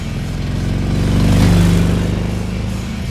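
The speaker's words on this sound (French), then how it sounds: "Ma moto sonne comme ceci." A motorcycle fitted with a KessTech ESE exhaust sound system idles nearby with a loud, lumpy pulse, then is revved once to a smooth peak and drops back to its throbbing idle.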